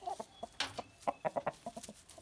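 A rooster in its pen gives a quick run of short, close clucks in an irregular staccato rhythm, fairly soft, with no voices.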